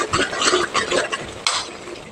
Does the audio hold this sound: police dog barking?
no